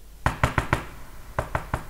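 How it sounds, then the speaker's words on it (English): Knuckles rap on a door in two close sets of sharp knocks, four quick raps then a short pause and three more, crisp and near in a quiet room. "There was a knock on the door."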